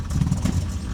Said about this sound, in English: definite misfire around 1500 RPM